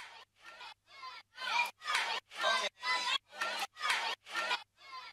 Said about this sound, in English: I found this really cool loop from a crowd